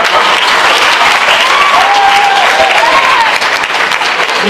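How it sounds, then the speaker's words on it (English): Audience applause at a mayoral candidates' debate in a high school, a steady dense wash of clapping that fills the room for the whole stretch at an even loudness. "Let's give him a round of applause."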